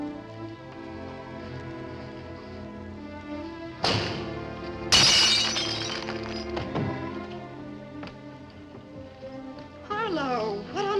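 A window's glass pane shatters at night with a sudden loud crash and tinkling breakage, a second impact following a moment later, set against a dramatic film music score.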